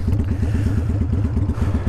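A motorcycle fitted with Highway Hawk slash-cut exhaust pipes replacing the standard system gives a loud, close, steady lumpy idle, its exhaust pulses throbbing in an even rhythm.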